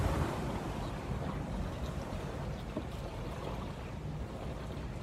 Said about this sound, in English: It's nice just to kind of watch the waves, listen to the waves, and relax a little bit out here.